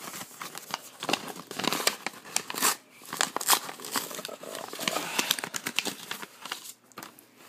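A paper envelope holding trading cards is handled close up, crinkling and rustling in irregular bursts with brief tearing-like scrapes; no one speaks during it.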